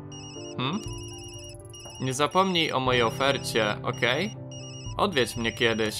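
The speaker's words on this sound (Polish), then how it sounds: "Cholera, to jest mój telefon z pracy." A work phone rings with a repeating electronic ringtone in the Tokyo Dark video game, a steady tonal pattern running under a woman's dialogue throughout.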